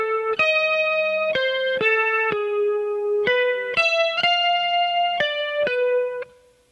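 Electric guitar with effects picks out the keyboard notes from Muse's Time Is Running Out, about ten clean sustained tones in a slow even sequence, close and alone.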